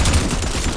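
Rapid gunfire in a Fortnite match, a dense continuous burst of shots lasting under a second, loud and close with no pause.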